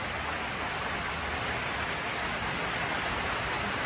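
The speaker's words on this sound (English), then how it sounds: "It started raining." Dense, even hiss of rain pouring down on a car at a showground, steady and continuous with no talking.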